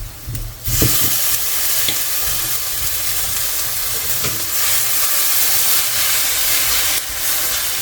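Garlic ginger paste frying with chili powder and spices in a hot pan, a steady close sizzle and hiss running throughout with a few faint clinks and no voices.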